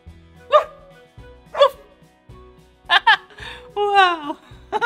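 People imitate a dog, giving several short barking woofs and a longer yip-like whine, close and clear, with brief pauses between each call.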